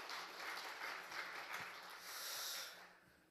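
Congregation at a Sunday church service applauding, a steady wash of clapping from many hands that swells and fades over a few seconds, fairly distant and without talk.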